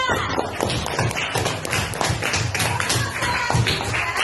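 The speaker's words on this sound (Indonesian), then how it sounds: "Apa kita kasih semangat tepuk tangan untuk Arya?" Children in a classroom clap together to cheer a classmate, a dense run of hand claps and taps that carries on steadily through the whole moment with no talk over it.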